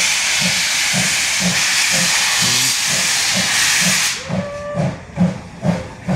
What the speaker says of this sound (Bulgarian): Спуска вода. Това е пара.